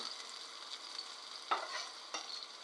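Moong dal frying lightly in a pan gives a soft, steady hiss. A couple of sharper scrapes from a stirring utensil stand out, fairly quiet and with no talking.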